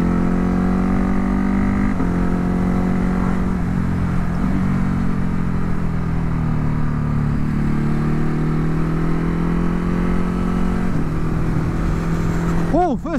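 A Ducati HyperMotard 950 motorcycle accelerates up through the gears to the national speed limit on a road, its engine note rising and dropping at each shift, steady wind noise throughout, close and loud.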